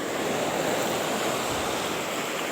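Sea waves wash steadily onto the shore in a continuous broadband roar, with wind buffeting the microphone throughout and no voices.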